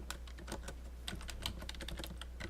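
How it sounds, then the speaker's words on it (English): Rapid typing on a computer keyboard, a dense stream of crisp key clicks over a low steady hum, close and continuous with no pauses. "I'm typing too fast here, and I'm screwing myself up here."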